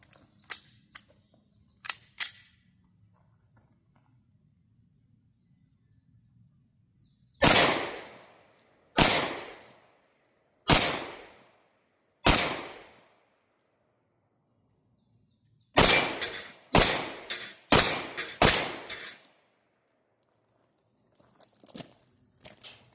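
Gunshots from a Canik Mete SFX 9mm pistol fired at about 7 yards, sharp loud cracks heard alone against near silence: a few spaced single shots, then a quicker string of five in succession.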